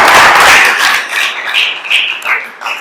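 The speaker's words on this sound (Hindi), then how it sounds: "आपकी भरपूर तालियों में।" An audience at a gathering in a Karachi friary breaks into applause that starts full and close, then thins into scattered claps as it fades out over a few seconds.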